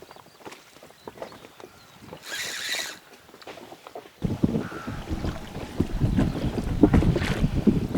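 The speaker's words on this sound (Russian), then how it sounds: "Ветер сильнее и сильнее становится." Strong wind buffets the microphone over water while fishing from a boat, gusty rumbling that rises and grows louder in the second half, with a brief hiss midway.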